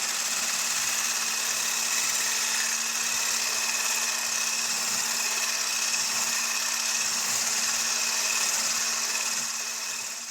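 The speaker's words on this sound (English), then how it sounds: "we're going to go ahead and beat it right into the heavy cream" Electric hand mixer whirring steadily for about ten seconds as it beats cinnamon into heavy cream for a keto no-bake dessert, a constant high buzzing motor tone close by, fading slightly at the end.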